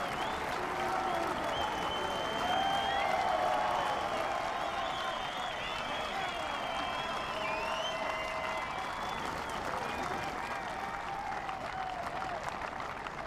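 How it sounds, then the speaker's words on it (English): A golf gallery roars and applauds after a missed putt at the DP World Tour Championship, a sustained loud crowd swell with whoops and commentary voices over it. "You will never hear a crowd roar louder than that for a putt that's missed."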